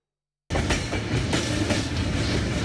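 A train at Samasatta railway junction rolls past loudly and close, its wheels clattering on the rails in a steady repeating clickety-clack that begins abruptly after a brief silence.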